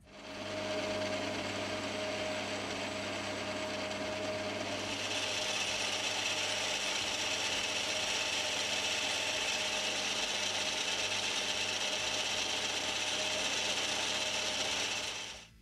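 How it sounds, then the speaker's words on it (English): A thread is cut into a metal handle while making a die holder, producing a continuous close grinding, rasping mechanical whir that grows brighter and louder partway through, with no voices. "Now for the main thread, I'll cut a little runoff gutter to thread into, break all the corners, and get this thread cut."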